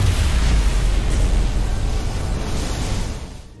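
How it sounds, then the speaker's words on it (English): A dilithium crystal bursts into a deep, roaring explosion in the Star Trek Resurgence video game after a phaser shot, a broad rumbling blast that holds loudly and then fades out over a few seconds. "Dilithium explosion!"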